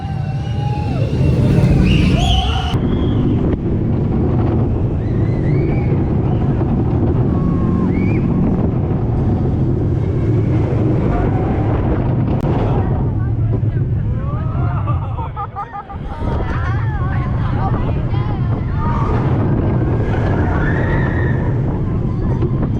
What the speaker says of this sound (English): Looks like we found our next coaster, and it is a Vekoma family boomerang